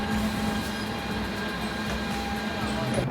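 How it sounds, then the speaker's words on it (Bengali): Continuous rumbling rail noise with a steady mechanical clatter as a rail engine pulls empty trolleys past nearby, loud and unbroken throughout. "ইঞ্জিনের সঙ্গে ফাঁকা ট্রলি নিয়ে যাচ্ছে"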